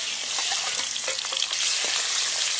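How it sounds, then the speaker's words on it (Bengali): Two fish heads fry in hot mustard oil, a steady, loud crackling sizzle with faint stirring, close up and with no talking. "এখন মাছের মাথা দুটো ভেজে নেব।"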